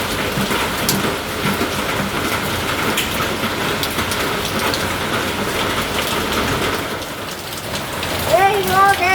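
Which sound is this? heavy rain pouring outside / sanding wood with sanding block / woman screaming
heavy rain pouring outside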